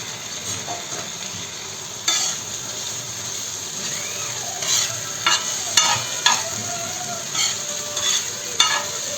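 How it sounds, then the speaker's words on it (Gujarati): A spoon scrapes and stirs chopped tomatoes and capsicum frying with turmeric and asafoetida in a pan for tava pulao, with soft sizzling underneath and irregular scraping strokes close by. "ધીરે ધીરે એને હલાવતા રહેવાનું. ત્યાં સુધી ટામેટાં અને કેપ્સિકમ પોચું ન થાય"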